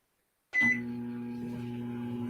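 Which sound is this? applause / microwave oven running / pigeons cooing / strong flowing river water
microwave oven running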